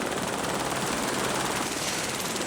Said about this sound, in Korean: 마칼루에서 헬기로 칸첸중가 베이스 캠프로 이동했다